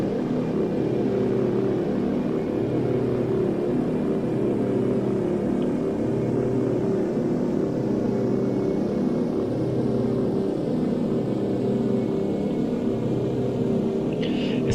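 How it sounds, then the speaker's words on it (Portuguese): A Nord Noratlas engine runs at full power in Flight Simulator X, a loud, steady propeller drone with a throbbing, pulsing hum that holds unbroken throughout. "Eu continuo com o motor no máximo."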